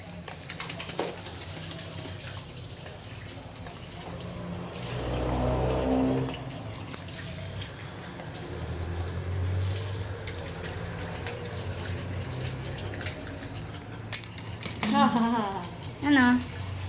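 Water runs steadily while someone bathes, a continuous splashing wash with voices talking over it and a louder gush near the end.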